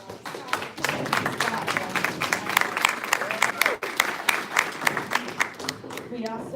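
A school showcase audience gives a teacher team a steady round of applause, with many hands clapping close and loud throughout, a voice briefly audible over the clapping.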